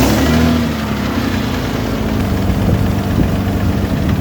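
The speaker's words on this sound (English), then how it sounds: "we can hear that the knocking sound's coming from the front of the engine area" A rebuilt car engine idles close by with a steady low rumble and a faint rapid knocking from the front of the engine, alone without talk.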